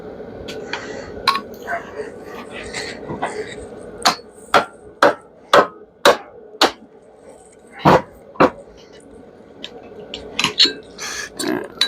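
Sharp metallic hammer blows break welds, about eight loud evenly spaced strikes with a few scattered lighter taps, close by over a steady background hum.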